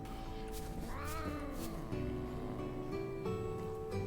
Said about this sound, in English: I think the kitty cat inside is very upset with me right now.